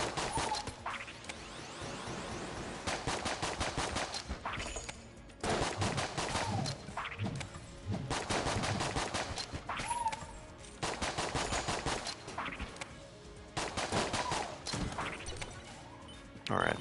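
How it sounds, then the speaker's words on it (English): Enemy gunfire in the Enter the Gungeon game, rapid rattling bursts of shots in repeated volleys separated by short pauses, with someone talking over parts of it. "these guys tend to shoot around corners"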